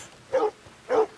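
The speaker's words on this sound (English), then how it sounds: "Where's the puppies? Thought I heard it up here." Two distinct dog barks from Red Dead Redemption 2, evenly spaced about half a second apart, moderately loud and alone with no talk.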